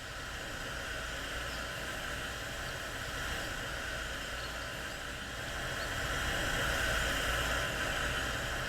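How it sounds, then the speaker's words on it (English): A steady hydraulic machine hum from the Lands of XON game, a dense broadband whir that holds constant and swells slightly toward the end, heard alone with no talking. "They make a kind of like hydraulic sound when you're near them."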